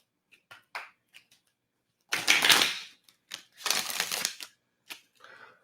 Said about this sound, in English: I'm gonna shuffle one more time for Virgo.